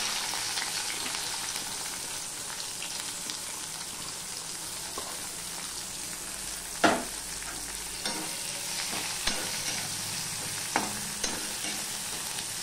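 Green chillies, onion and garlic frying in hot oil in a home kitchen, a steady soft sizzle with a few sharper crackles and stirring knocks, close and alone with no talk.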